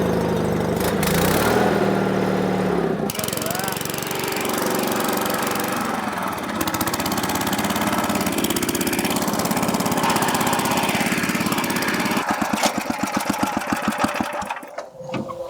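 A tiller's small engine runs steadily and loud after starting, with a choppy, rapid pulsing beat that turns sharper and more distinctly knocking near the end.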